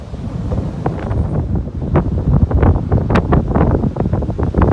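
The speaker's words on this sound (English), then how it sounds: "Damn, is it windy." Strong gusts buffet the microphone in a continuous low rumble in Biggar, Saskatchewan, loud and close, with no voices.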